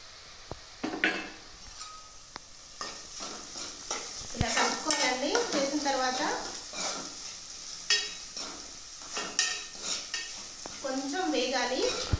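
Okra curry fries in a pan with salt and turmeric, a soft continuous sizzle under repeated close scraping stirs of a spatula against the pan. Some strokes are sharper and louder than others, with brief gaps between them.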